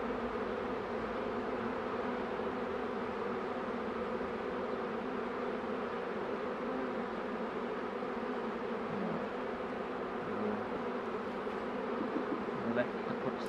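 A honeybee swarm being sorted near an open hive gives a steady, dense buzz throughout, moderately close, with the pitch of many wings holding even and a few brief louder passes near the end.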